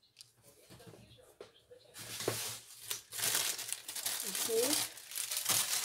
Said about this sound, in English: I want a little bit of foam tape on the bottom of this